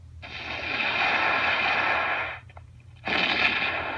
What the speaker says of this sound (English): Like I can shoot the egg launcher right now.